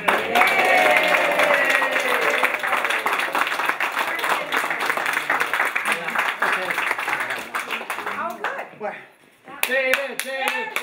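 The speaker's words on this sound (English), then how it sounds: "everybody, big round of applause. Go crazy for Murray." A family claps and cheers for Murray, a dense run of handclaps with voices mixed in that thins out near the end before a few more claps.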